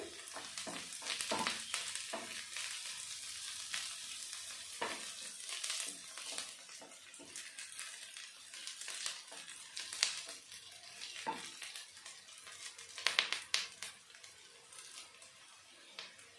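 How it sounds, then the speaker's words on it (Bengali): Onions and curry leaves fry in a pan with a bright sizzle, while a utensil stirs and scrapes in bursts over about sixteen seconds; close and moderately loud with uneven surges and no speech. "পেঁয়াজটা আমি হালকা ভেজে নেব। দিয়ে দেবো কারি পাতা।"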